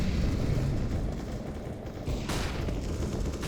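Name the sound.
incendiary grenade thrown in video game Counter-Strike: Global Offensive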